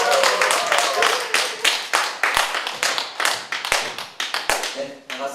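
Audience at a seminar clapping loudly and fast at first, then thinning into scattered individual claps that fade out, with some talk mixed in.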